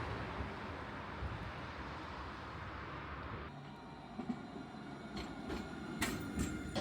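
A Nottingham NET tram runs on street rails, giving a steady close rumble and rolling wheel noise. Partway through the tone shifts, and faint squeals and clicks follow near the end, with no talk.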